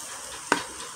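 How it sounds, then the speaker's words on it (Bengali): Bay leaves dropped into a hot pan give a single short burst of sizzle and a stirring scrape, then a faint, steady background hiss. "এই তেজপাতা দিয়ে দিলাম, একটু সিজিয়ে দিতে হইবে"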